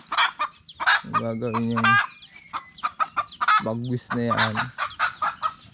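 Chickens, including a hen and chicks, make loud clucks and nasal calls in bursts, with high thin peeps from chicks scattered throughout, close by, while someone speaks briefly.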